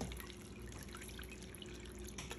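Water runs into a pot for dyeing papers, a faint continuous trickling and splashing pour with small drips, steady throughout with no talk.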